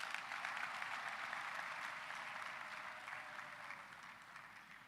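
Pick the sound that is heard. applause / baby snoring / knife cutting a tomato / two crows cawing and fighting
applause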